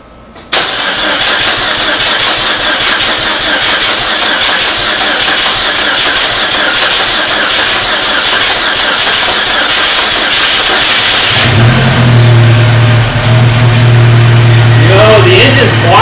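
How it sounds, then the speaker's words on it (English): A 2006 Saturn Ion engine with a misfire runs loudly and roughly, its uneven exhaust note sputtering steadily; late on it settles into a deeper, steadier hum as a voice briefly talks. "The engine's quiet, bro. The exhaust is loud. It's got misfire."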